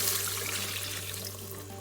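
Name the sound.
chicken broth being poured into an Instant Pot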